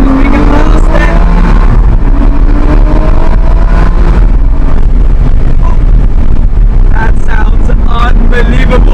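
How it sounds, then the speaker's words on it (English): A Bentley GT3 supercar roars loudly and continuously at full throttle close by as it runs in a supercar convoy, with heavy wind rush throughout. "I'm cruising with the Bentley GT3, so listen to this. We can blast it."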